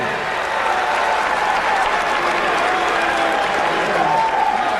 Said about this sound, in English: There he is, giving himself a round of applause.